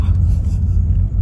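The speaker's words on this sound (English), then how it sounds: "We're in the car now" Inside a BYD car on the move, a steady low cabin rumble of road and drivetrain noise fills the brief moment, with faint murmuring voices underneath.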